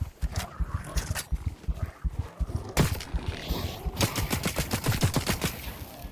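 A gun in a Tarkov-style shooter fires rapid, evenly spaced shots in repeated bursts, loud and close, with a sharp crack partway through and no talk over it.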